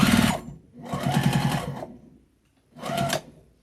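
Sewing machine running a quarter-inch seam edge to edge on a small quilted mug rug, in three bursts of rapid mechanical stitching separated by short pauses, close and fairly loud with no talk.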